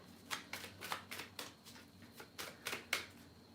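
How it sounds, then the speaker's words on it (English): Oracle cards being shuffled by hand, a quiet, close series of about ten evenly spaced riffling flicks with no talking. "I'm going to shuffle these."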